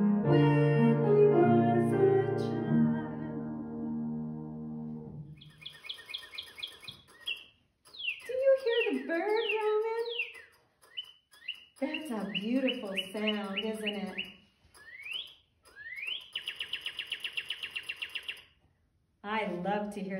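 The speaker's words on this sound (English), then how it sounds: "I love to hear the birdies sing" Birds chirping and singing in a series of quick, bright whistles and trills with short pauses between phrases, preceded by a few seconds of a sung voice.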